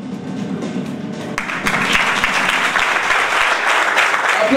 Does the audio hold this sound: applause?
yes